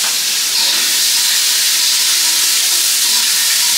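Yardlong beans frying in a pan, a loud, steady close sizzle and hiss that holds without a break and with no talk.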